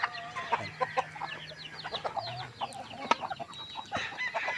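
Visayan native chickens clucking busily nearby, a flurry of short, overlapping calls with an occasional longer crow-like cry.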